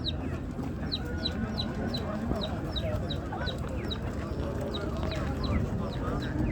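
Chickens cluck amid a busy poultry market in Ganja, with a rapid series of high, regular chick peeps over a dense background murmur of voices.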